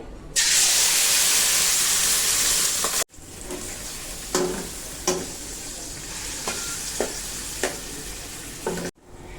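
Marinated chicken dropped into hot oil in a wok bursts into a loud, close sizzle, followed by a quieter steady fry punctuated by several sharp stirring scrapes.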